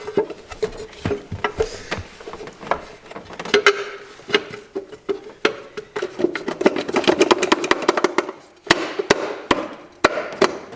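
A GY6 150cc scooter engine is cranked and sputters, with irregular uneven firing pops and short bursts that build toward a rough, stumbling run before faltering.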